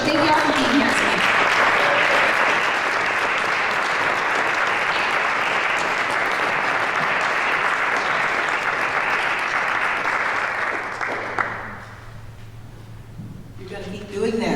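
Sustained, dense applause from an evening audience thanking speakers at a League of Women Voters event on the Tri-Cities coal problem, steady for about eleven seconds before fading into scattered claps.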